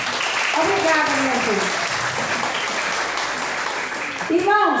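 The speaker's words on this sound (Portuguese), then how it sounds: "Palmas para Cleide." A church congregation applauds in sustained, dense clapping, with voices speaking and calling out over it before the applause fades slightly near the end.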